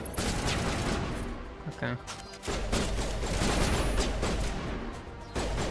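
Sustained gunfire in the Mass Effect video game, dense rapid bursts overlapping into a steady barrage with short gaps, loud and close, with a player speaking briefly over it.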